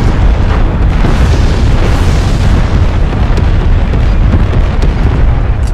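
Massive, loud artillery strike explosions in a military shooter, a continuous rumbling boom of overlapping blasts that fills the whole stretch at full level, with no talk over it.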